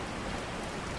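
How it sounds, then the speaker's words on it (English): Steady rain pours down in the deep woods, an even, dense patter filling the whole moment with no other sound standing out. "The only sound was the rain,"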